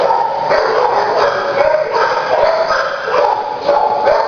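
Dogs bark, yip and whine in a dense, continuous clamour that stays loud from start to finish, with no clear gaps between calls.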